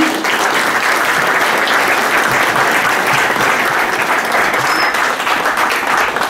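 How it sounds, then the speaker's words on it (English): Loud, sustained applause from the crowd at a Mendocino College women's basketball championship awards ceremony, cheering the team in a continuous, even wash of clapping. "let me get a round of applause for the team"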